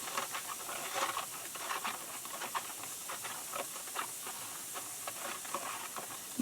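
Water mixed with salt and baking soda fizzes while cleaning old costume jewelry, a soft, steady hiss full of tiny crackling pops.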